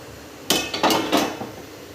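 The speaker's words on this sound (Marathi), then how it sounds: "बघूया आपण आता प्लेट काढूया" A steamed plate lifted out of a steamer pot while making methi vadi, giving three distinct metallic clanks of steel plate against the pot, close and clear with no talking.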